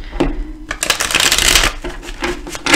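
Tarot cards shuffled and drawn by hand, a quick flurry of riffling paper flicks with soft snaps as cards are laid down, close and brief.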